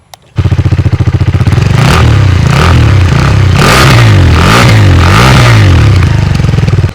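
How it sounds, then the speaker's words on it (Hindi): A KTM 390 motorcycle engine runs loud and close, revving repeatedly in rhythmic surges over a steady idle, no voices. "तो अब हम बात करते हैं इंजन साउंड के बारे में।"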